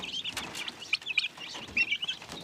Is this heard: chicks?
yes